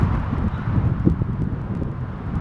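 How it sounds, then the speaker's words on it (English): Steady wind buffets the microphone beside a hotel pool, a continuous low rumbling gust that swells and eases slightly throughout, with no speech. "A little bit windy today, by the way."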